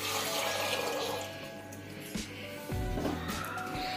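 Water pours from a large glass tumbler into a pressure cooker holding green peas for dal, a steady close splashing gush that dips and swells over a few seconds.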